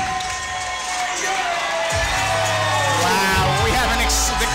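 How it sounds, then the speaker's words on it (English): An MMA event crowd before a fight cheers and yells in a loud, continuous roar, with an announcer's voice carrying over the noise. "Wow, the crowd is excited for this fight too"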